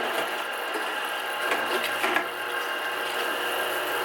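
A Kuvings B6000S slow juicer grinds and crushes a piece of cucumber, giving a steady close mechanical whir with ratcheting, crunching bites that swell briefly in the middle.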